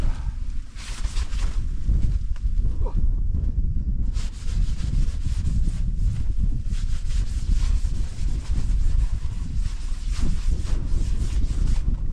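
Cold wind blows steadily across open peatland fells at a frozen winter campsite in Bewcastle. Heavy rumbling gusts buffet the microphone, and a flapping rustle rides on top the whole time, with no voices.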